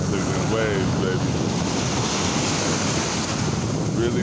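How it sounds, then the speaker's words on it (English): Ocean waves and surf roar steadily on a windy shore, with wind buffeting the microphone, and a voice speaks briefly over the waves near the start and again at the end. "Look at the waves, baby."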